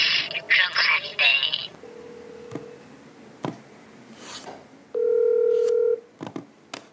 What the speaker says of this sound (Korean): 피디수첩 제작진은 성재우 검사의 답을 듣기 위해 수차례 전화를 하고 문자도 보냈지만 답은 오지 않았습니다